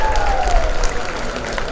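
Crowd applause at an inauguration ceremony for a hostel and statue unveiling, brief loud clapping from a large gathering with a voice or tone sounding faintly beneath.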